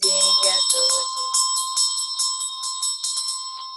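A Tibetan Buddhist ritual hand bell, played with a vajra during chanting practice, rings in a rapid steady shimmer of bright metallic strokes with a sustained clear tone, close and loud, after a brief hum of voice at the start.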